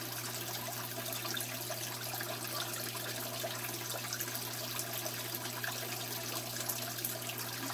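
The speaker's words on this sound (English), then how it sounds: "the next couple of jugs of water I put in there" Water poured from a jug into a brackish aquarium, a steady close splashing wash with a low constant hum underneath, continuous and without pauses.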